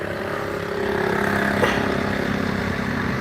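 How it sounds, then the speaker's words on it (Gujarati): A tractor moving along beside green fields, its engine giving a steady mid-pitched drone that swells slightly and holds fairly loud and constant throughout. "જો ટ્રેક્ટર હાલે છે"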